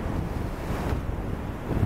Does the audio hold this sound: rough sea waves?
yes